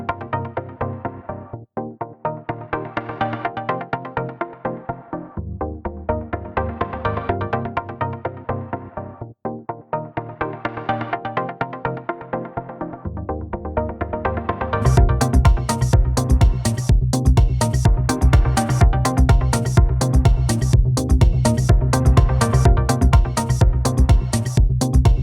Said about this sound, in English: We should get delay, which fades out and then comes back in, and then it does its little variation at the end.